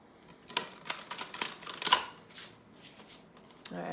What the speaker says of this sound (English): All right, one more shuffle, I'm being told.